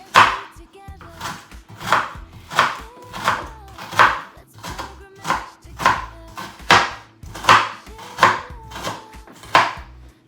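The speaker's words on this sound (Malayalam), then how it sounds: "ഒന്ന് കട്ട് ചെയ്തെടുക്കാം." A knife chops through capsicum (bell pepper) on a cutting board in a home kitchen, about a dozen crisp, evenly spaced cuts in a steady rhythm, close and clear with no talking.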